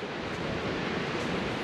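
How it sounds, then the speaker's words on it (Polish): Large sea waves on the beach at Sopot on a windy day make a steady, broad roar of surf with wind noise, continuous and loud, with no voices. "Dosyć duże fale."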